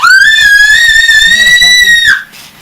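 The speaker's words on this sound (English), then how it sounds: "Really? My ears hurt. That's how we feel when you scream." A person lets out one long, piercing, high scream held for about two seconds, very loud and close, then cut off abruptly, followed by quiet talk.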